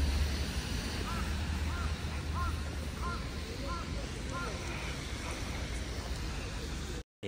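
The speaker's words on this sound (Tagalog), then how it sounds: "Daming uwak dito." Crows caw about half a dozen times in a steady series near a bus stop by a station in Hokkaido, heard fairly clearly over low traffic rumble and background chatter.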